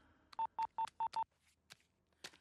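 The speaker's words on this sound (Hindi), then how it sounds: "जल्दी फोन लगा और उनको बुला।" Five quick, evenly spaced touch-tone beeps sound as a telephone number is dialed, followed by a couple of fainter clicks and blips in a quiet room.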